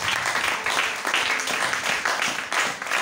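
A church congregation applauding together during a Sunday testimony service, steady dense clapping with rhythmic surges, loud and filling the room, with faint voices mixed in.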